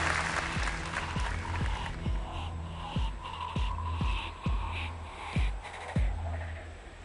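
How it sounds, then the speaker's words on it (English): An audience at BlizzCon claps in a large hall. A brisk, steady round of applause sits under sharp, evenly spaced thumps that carry on for several seconds. "Give them a round of applause."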